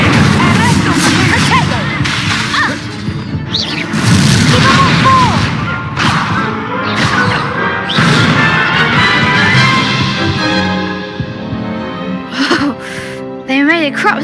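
Incendio fire spell cast in the Hogwarts Legacy video game, with loud booming blasts and crashing magical effects erupting repeatedly in dense, busy combat noise, while a voice speaks over the action.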